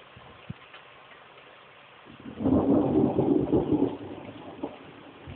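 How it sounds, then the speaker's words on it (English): Thunder rumbles in, swelling loudly for a couple of seconds before fading, with a faint steady patter of rain and a few small taps around it. "Yay, thunder too. Rain and thunder."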